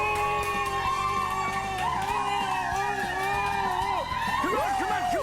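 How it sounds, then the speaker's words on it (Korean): A studio audience on a Korean morning TV show applauds and cheers to welcome a guest, a lively crowd roar with whoops and shouts running under the show's background music throughout. "박수!"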